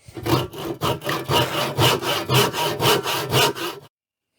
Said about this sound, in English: I think as the timber's so hard, but there's also a fair chance that my wood saw is a little blunt